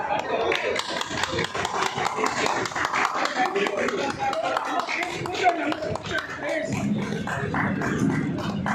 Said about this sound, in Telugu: కొట్టండి సార్ క్లాప్స్